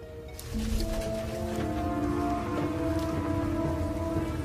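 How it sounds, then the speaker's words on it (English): Rain patters steadily, with scattered droplets over a constant wash, while faint tonal hums and whistles drift underneath. "It's raining."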